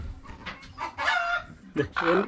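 A young hen brooding on eggs clucks nearby in short, throaty bursts, a few calls in a row, up close and fairly clear.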